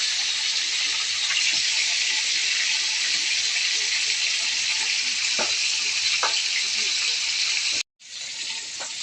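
Loud, steady sizzling of fish frying in hot oil in a pan, close up, with a brief cut near the end before the sizzle resumes.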